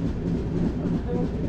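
Steady rumble and clatter of the Bengaluru-Tirupati Intercity Express running, heard from inside a moving coach as a continuous low drone.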